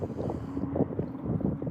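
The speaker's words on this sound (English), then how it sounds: "Danny, it's freaking windy today." Strong wind gusts outdoors at a fishing dock, a low rumbling buffet across the microphone that comes and goes in uneven surges.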